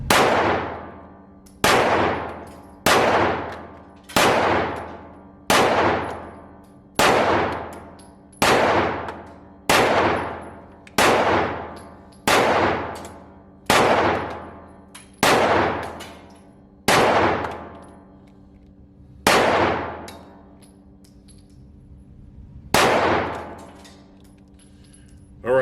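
A Smith & Wesson M&P 2.0 Metal Compact pistol fires about fourteen single shots at a steel target, each sharp report followed by a ringing metallic clang that decays, spaced at roughly regular intervals with longer gaps near the end.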